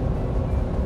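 Steady droning roar of a RAM 1500 pickup's 3.6L Pentastar V6 engine revving high while climbing a hill, a continuous low rumble heard from inside the cab.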